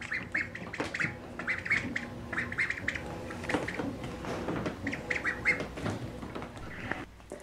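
Ducklings quack and squawk in a busy, overlapping cluster of short calls indoors alongside a Great Dane, steady and close throughout with no talking.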